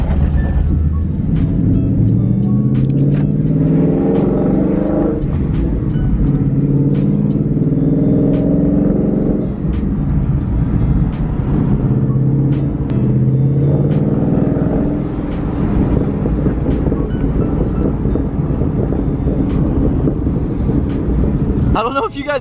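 Car exhaust with stock H-pipe resonators and a Roush axle-back during a ride, a loud steady engine rumble with rising and falling revs throughout, occasional sharp pops riding on top, and a voice talking over it.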